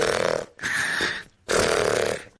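Two loud, rasping snores sound close by, each a long throaty drawn-in breath split by a short pause, with no speech.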